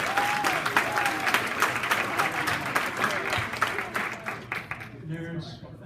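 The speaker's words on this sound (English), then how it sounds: "please clap for everyone who actually took the survey." A live-stream audience at a regional meeting applauds steadily for several seconds, a dense wash of many hands clapping that trails off near the end, with a voice briefly audible.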